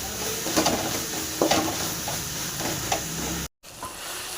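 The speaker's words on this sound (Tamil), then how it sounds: "நல்லா ஃப்ரை பண்ணிக்கலாம்" Bitter gourd leaves frying in a pan, a faint steady sizzle with soft stirring scrapes and a few brief clinks, a short dropout near the end, no talking.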